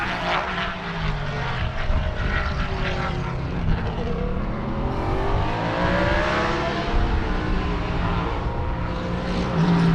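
GT race cars at Sebring, a Camaro leading a pack of spec Corvettes, roar past close by. Engine pitch sweeps up and down across the full stretch as several cars pass in turn, loud and continuous, with no talk.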